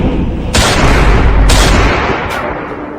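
Gunfire in a Bhojpuri comedy sketch: three sharp, loud broadband shots, then a fainter third, spaced about a second apart over a steady rumbling background, with no talk.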